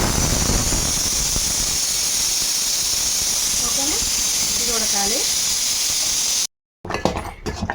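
Milk and rice simmering together for payasam, a sweet rice pudding, giving a steady loud hiss and bubbling throughout with a few squeaky pops, then a short silence and some clatter at the end.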